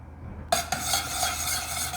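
Honey, minced garlic, garlic powder and soy sauce being stirred in a pot: after a quiet start, a sharp utensil clink sets off a steady bright scraping and swishing that continues, with a second tap just after.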